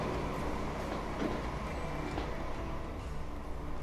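Small trains roll along in the Transport Fever video game, giving a dense, continuous rumble of wheels and rail clatter at steady volume throughout.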